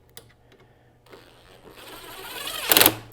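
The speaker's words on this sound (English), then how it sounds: "So we are going to take our gun with our Torx bit on the end. Run that one in." Cordless power driver with a Torx bit runs a screw into a C4 Corvette headlight motor (1988-1996), a short whirring burst rising to a louder buzz near the end after quieter handling noises, close up.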